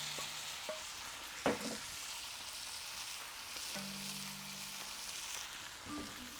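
Onions, bacon and peppers frying on a Kamado Joe Classic 2 grill: a soft, steady sizzle with a few scrapes and knocks of a utensil, one sharper clack near the start, and faint tonal hums in the background.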